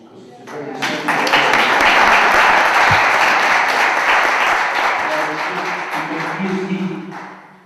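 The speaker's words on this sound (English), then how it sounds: "I think we should give him an applause" A debate audience applauds a debater: a full round of crowd clapping that swells quickly, holds steady, then tapers away, with voices faintly underneath.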